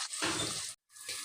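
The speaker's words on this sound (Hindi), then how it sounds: "अब हम इसी कुकिंग ऑयल में प्याज फ्राई करेंगे।" Onions fry in hot cooking oil with a soft, steady sizzle, heard close and fairly faint, broken by a brief pause.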